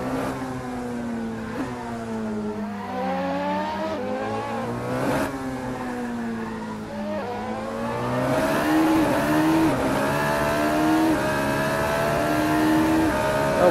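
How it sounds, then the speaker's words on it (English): A Formula Renault 3.5 open-wheel race car in Assetto Corsa at the Sepang circuit in Malaysia, engine pitch rising and falling through gear changes as it approaches, then swelling louder as the car passes close by. "As I wait for the leading car to pass by again."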